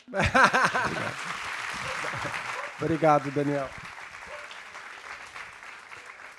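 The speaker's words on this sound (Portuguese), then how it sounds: "Pode aplaudir, pessoal." An audience at a Brazilian literary talk applauds, with a steady wash of clapping under and between spoken words from a presenter, then fading as talk continues.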